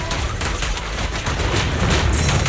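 Sustained automatic gunfire rattles in a Zenless Zone Zero battle during the Soldier 11 story. It is a loud, continuous fusillade of close shots with no clear breaks.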